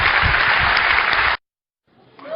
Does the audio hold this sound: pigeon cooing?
no